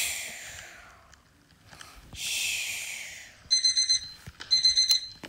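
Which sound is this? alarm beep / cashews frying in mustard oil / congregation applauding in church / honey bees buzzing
alarm beep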